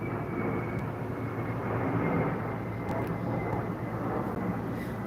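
A Southwest Airlines airplane's engines roar as a steady, broad drone that fills the whole stretch without letup, close and fairly loud.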